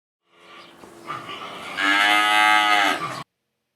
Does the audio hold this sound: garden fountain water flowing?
no